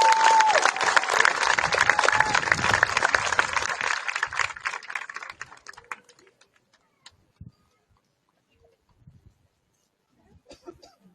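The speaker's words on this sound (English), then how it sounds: "One more round of applause for those three wonderful speakers." Audience applause at a high school graduation ceremony, a dense, loud burst of many hands clapping that tapers off after about five seconds, leaving near silence with a few faint scattered noises.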